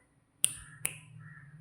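Two crisp finger snaps ring out close and clear, about half a second apart, over a quiet low hum.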